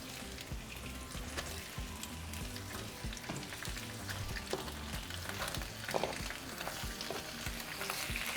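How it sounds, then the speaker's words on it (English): Chile de árbol and tomatoes fry together in a pan, sizzling and crackling in a steady, close hiss with scattered pops and stirring scrapes. "we're going to add our chile de árbol. Just lightly fry them"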